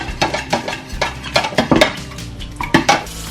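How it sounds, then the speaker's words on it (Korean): A utensil stirs chilled broth with soup soy sauce, salt, oligosaccharide syrup and vinegar in a bowl for cold cucumber soup, making a quick run of close, bright clinks and scrapes in an uneven rhythm. "이제 차갑게 식힌 육수에 국간장, 소금, 올리고당, 식초 넣고 잘 섞어주세요."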